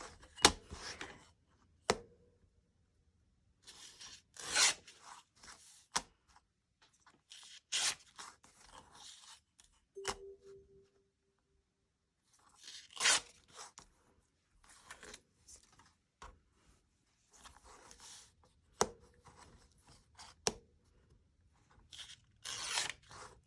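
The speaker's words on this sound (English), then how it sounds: "So let me go ahead and cut it with the ruler." Paper scraps for a collage being cut or torn along a ruler edge, with repeated short rasping tears and scrapes in separate bursts over a quiet background, close and fairly crisp.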